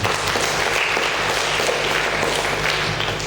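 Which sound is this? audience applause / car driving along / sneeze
audience applause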